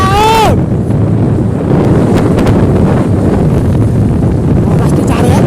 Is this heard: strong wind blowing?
yes